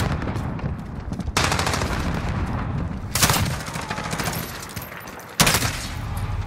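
Video game gunfire during a Modern Warfare deathmatch: sustained rapid automatic fire with dense bursts and sharp loud blasts at intervals, close and continuous throughout.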